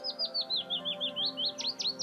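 Rapid series of bright, evenly spaced chirping notes from a warbler or nightingale, about a dozen repeated phrases in quick rhythm, clear and close with no voices.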